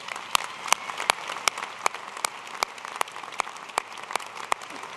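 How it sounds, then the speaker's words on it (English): Audience applause at a university winter commencement ceremony in a large hall, a steady wash of clapping with a few sharp, distinct claps standing out at a moderate distance. "Let's give them another round of applause."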